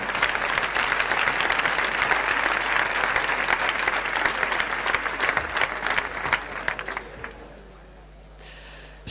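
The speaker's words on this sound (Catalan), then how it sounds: "Un fort aplaudiment per aquesta mà innocent." An audience claps in sustained, dense applause that fills the room loudly and evenly, then tapers off and fades near the end.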